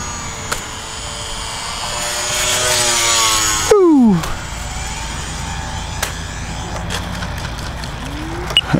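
A small UMX Pitts S-1S RC biplane flies overhead, its high electric motor whine rising and falling in pitch as it passes, with sharp Doppler sweeps and a few clicks and knocks.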